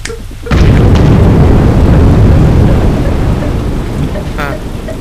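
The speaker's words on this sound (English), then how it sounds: "I have to detonate them all at once." Many explosives detonate at once in Atom Zombie Smasher, a sudden loud booming blast that rolls into a long crackling rumble and fades slowly over several seconds.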